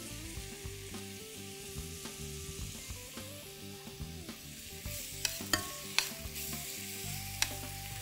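Mushrooms sautéing in olive oil make a soft sizzle with occasional sharp utensil taps and stirring clicks near the end, partly under a steady background hum and tones.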